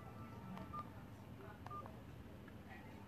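Telephone dialing tones as a call is placed, a few short beeps sounding over a steady background hum.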